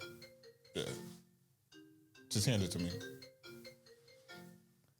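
A mobile phone rings indoors in a casual podcast-style setting, with a repeating melodic ringtone sounding clearly while people talk over it.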